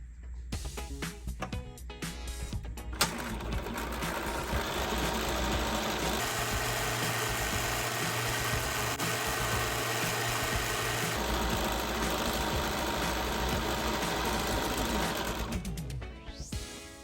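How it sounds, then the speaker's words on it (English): A sewing machine runs steadily, stitching quilt rows with a 1/4-inch foot for a Ten Sisters easy piecing grid quilt; its loud continuous motor hum and rapid needle rattle speed up, hold constant, then slow to a stop. "We're going to sew at a 1/4 inch all the way down."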